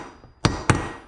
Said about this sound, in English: taking a flat punch and I'm flattening them out